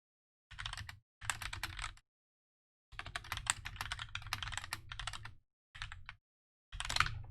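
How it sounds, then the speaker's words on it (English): Bursts of fast typing on a GMMK keyboard fitted with Gateron Brown switches, crisp close keystrokes in several separate runs separated by silent pauses. "I switched back to my Gateron Brown Switch GMMK for fun."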